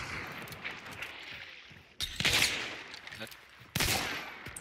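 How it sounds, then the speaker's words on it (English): Gunfire in Hunt: Showdown, with two sharp, loud shots cracking out over a low rumbling background while players talk quietly underneath. "Somebody's shooting me with something."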